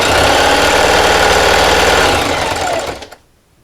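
A sewing machine straight-stitches fabric for a T-shirt quilt at stitch length 2.5, a loud fast steady mechanical whir of rapid needle strokes running continuously, then slowing and stopping near the end.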